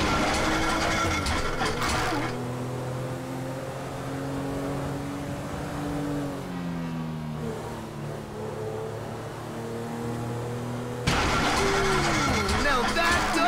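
A failing boat engine in GTA 5 drones roughly, sputtering and shifting in pitch throughout, with game sound effects over it; people talk loudly under the mechanical noise.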